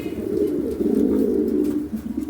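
A pigeon coos steadily and close up, a low continuous rolling call that lasts throughout with no other sounds.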